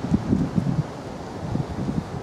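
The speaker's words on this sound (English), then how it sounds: "And it's windy." Wind blowing outdoors at a campsite, rumbling against the microphone in uneven gusts that swell and ease over a couple of seconds, with no one speaking.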